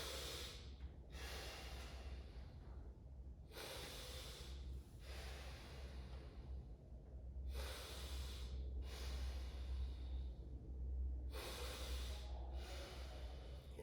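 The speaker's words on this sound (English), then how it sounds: "we're taking a deep breath" Slow deep breaths during a hip flexor stretch, a few long airy inhales and exhales in a steady rhythm, close and quiet with no talking.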